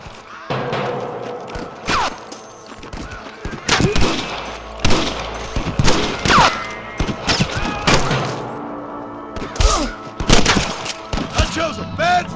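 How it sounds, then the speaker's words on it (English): Repeated gunshots in the video game Red Dead Redemption crack and boom at irregular intervals, some in quick bursts, loud and close, with echoing tails and scattered thuds between. "I can hear more gunshots."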